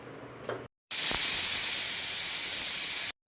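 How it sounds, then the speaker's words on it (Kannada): A pressure cooker whistle, cooking horse gram curry, lets out a loud, steady hiss of steam for about two seconds, then cuts off abruptly. "ಒಂದು ಐದರಿಂದ ಆರು ವಿಷಲ್ ತಗೊಳ್ಳಿ"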